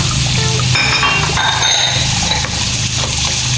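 Tomatoes sautéing in rendered pork fat for pork sinigang give a steady loud sizzle, with occasional clinks of a utensil against the pan throughout.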